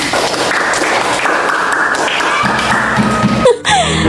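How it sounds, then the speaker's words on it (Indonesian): An audience claps during a teaching practice session, a dense, steady wash of applause that cuts off with a thump near the end. "Tepuk tangan dulu lagi nih."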